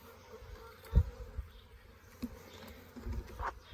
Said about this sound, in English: there's bees swarming all around us